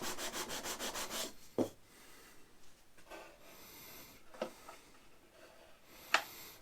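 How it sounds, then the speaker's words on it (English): The end of a workpiece is sanded against a flat surface, producing a fast rhythmic rasping stroke at first, then softer scrubbing broken by a few sharp knocks, close and fairly quiet. "and sand it down."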